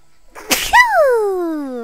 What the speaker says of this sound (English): Oh wait, I have to sneeze.